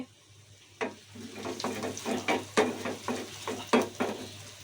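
Whole cumin seeds crackling and sizzling in hot oil with softened onion for a khichuri tempering, a soft steady fry with a series of small pops and stirring clicks, close and moderately quiet over a low hum.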